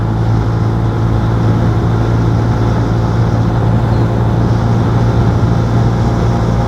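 Steady, droning hum of a 125cc motorcycle engine while riding, constant and loud throughout with heavy wind rumble and no change in pitch, no voices.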